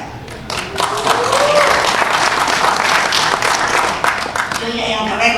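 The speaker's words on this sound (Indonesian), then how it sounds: "Tepuk tangannya." An audience at a political party gathering breaks into loud, sustained applause that builds quickly and keeps going for several seconds, with crowd voices mixed into the clapping.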